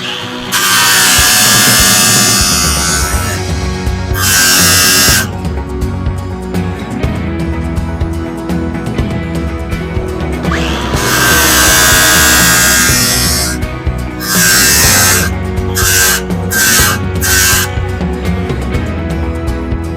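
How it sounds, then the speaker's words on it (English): Flap disc grinder on a metal bracket during an LS engine swap into a GMC C30 crew cab, a loud continuous high whine with several surging passes and brief drops as the disc meets and leaves the steel. "just spin this, and I'll hit it with the flapper"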